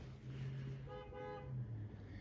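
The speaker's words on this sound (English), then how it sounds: "I hear you out there honking" A car horn honks outside in two drawn-out toots, moderately loud over a steady background hum, with no one speaking.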